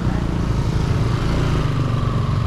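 A motorcycle engine runs nearby outdoors at a sea-of-clouds viewpoint in Dupax, giving a rough, steady low drone that holds constant at close range with no talk over it.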